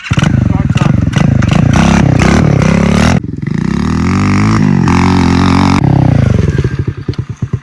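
A small pit bike motorcycle fires up close and loud with rapid sputtering bursts, then settles into a steady running drone before the revs choppily pulse and fall away at the end.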